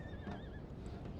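Cavalry horses in a Napoleon Total War battle on the Syrian Ridge map give a clear, wavering whinny over a dense battlefield din, with faint hoofbeats underneath, all in a little over a second.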